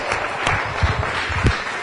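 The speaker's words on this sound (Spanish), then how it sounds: "Vamos, dando aplauso al Señor." Short burst of congregation applause in a church service praising God, scattered hand claps with a few louder thumps, fairly close and brief.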